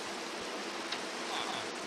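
Rain falls in Minecraft as a soft, steady hiss of patter, faint and continuous with a few small drop-like ticks and no speech.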